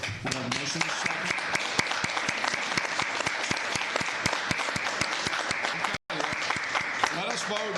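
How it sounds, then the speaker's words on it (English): Sustained applause fills a Tarrant County commissioners court meeting room, dense clapping from many hands continuing steadily with a brief dropout, while voices mix in underneath. "You can clap again."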